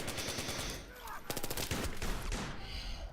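Rapid bursts of machine gun fire ring out in a Battlefield video game, crackling rounds overlapping in a dense, chaotic volley.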